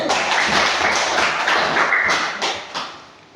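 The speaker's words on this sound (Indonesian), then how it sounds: "Tepuk tangan dulu untuk ketiga kelompok." Applause in an elementary school classroom for three student groups: dense, loud, continuous clapping from many children close by, with some sharper claps standing out before it tapers off.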